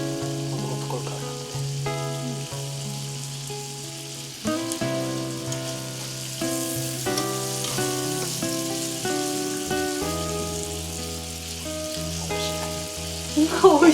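Chicken gizzards sizzle in butter on a Bruno oval electric grill plate, a continuous soft frying hiss running beneath prominent tonal music, with a brief louder crackle at the end.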